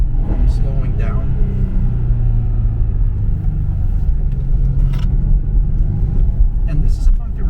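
A 2004 Subaru Impreza WRX STi runs over a bumpy road, giving a steady, loud low road-and-engine rumble inside the cabin, broken by occasional light knocks and clatters. A voice can be heard faintly over it.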